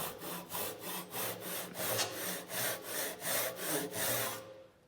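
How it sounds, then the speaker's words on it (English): A Japanese hand saw cuts across the top of a piece of wood in about a dozen even, rhythmic rasping strokes, close and clear, stopping abruptly at the end. "So I'm going to focus on just cutting across the top of the piece of wood."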